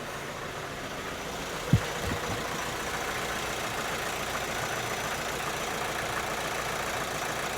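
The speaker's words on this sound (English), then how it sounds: "Car's idling quite smoothly." A 2013 Vauxhall Astra J 1.7 CDTi diesel engine idles with a steady, close low rumble and a faint vibration. A single sharp knock comes early on.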